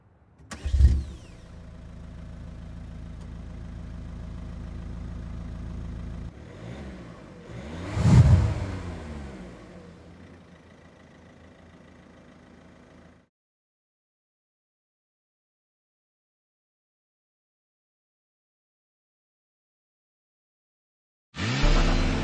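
A Citroën C4 BlueHDi diesel car engine cranks and fires, settles into a steady idle, then gives a second start surge before cutting to silence; a brief loud burst returns at the end.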